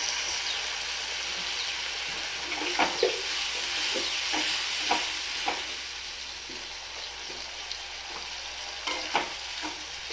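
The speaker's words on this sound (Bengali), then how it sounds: "আস্তে আস্তে এবার একটু জল দিয়ে মশলাটাকে সাঁতলে নেওয়া হবে।" Spice paste with a splash of water sizzles in a pan for an achari prawn curry, a constant close frying hiss broken by soft stirring taps and scrapes, with no voices.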